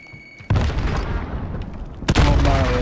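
A grenade explodes in Call of Duty, a loud, close boom with a long rumbling tail, then a second sharp blast near the end.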